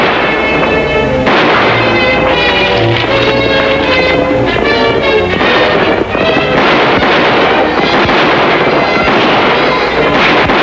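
Gunfire effects in a 1952 Kit Carson western radio drama, a loud, dense barrage of rapid shots and blasts that continues without a break, mixed with other action noise.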